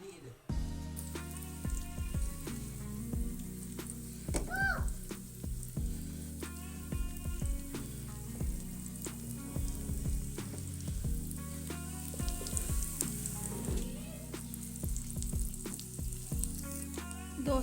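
Six to seven finely chopped garlic cloves sizzle and crackle steadily in hot oil, with occasional stirring, under continuous background music.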